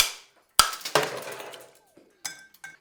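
Ice broken by hand for stirring an Old Fashioned cocktail: a sharp, glassy crack, a second crunching break, then a few lighter clinks of ice fragments, close and loud with no talk.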